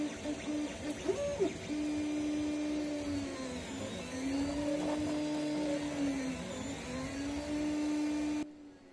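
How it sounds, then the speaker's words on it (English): A loud 3D printer running on stock stepper motor drivers gives a steady, whining motor tone that slides up and down in pitch as it moves, continuous and close, with no talking. "you can go from a printer that sounds like this"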